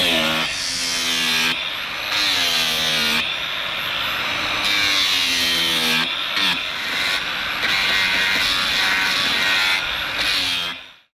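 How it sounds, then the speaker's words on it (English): Wood being sanded by hand on a boat restoration, working an edge back to marked lines; a steady, loud, continuous rasping friction with short pauses between strokes, running close and alone for about eleven seconds. "I've sanded back to the original marks"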